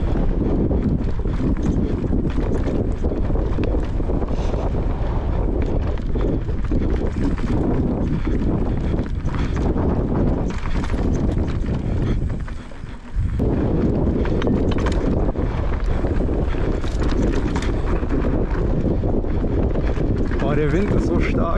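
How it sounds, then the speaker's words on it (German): Strong wind buffets a GoPro camera with a windscreen during a bike ride on Madeira, making a loud, continuous low roar and flutter with one brief lull midway. "Der Wind ist so stark. Ich hoffe, der Windschutz an der GoPro hilft ein bisschen was."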